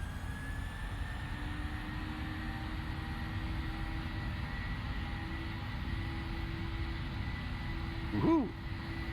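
A Boeing 737-800 in a flight simulator game rolls down the runway on takeoff, a steady jet engine roar with a sustained whine holding throughout, even and unbroken at moderate loudness.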